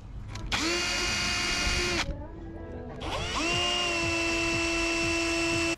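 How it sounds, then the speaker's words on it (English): A power drill bores into an aluminum toe rail on a sailboat, revving in two loud, sustained bursts with a short pause between them. "That would mean drilling through the aluminum tow rail, which is very much possible, but takes a little extra patience."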